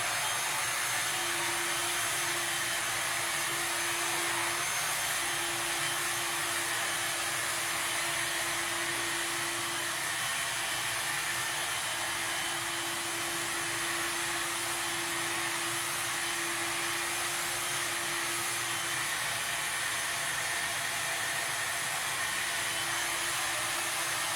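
A steady, loud whooshing hum of a blow dryer runs continuously throughout, with a faint tonal whine coming and going.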